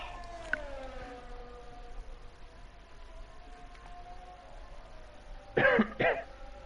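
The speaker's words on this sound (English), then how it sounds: "Stupid cough. I wish it'd go away." A commentator clears his throat and coughs twice, two close, loud rasping bursts near the end, following a quiet stretch where a faint siren-like tone drifts in the background.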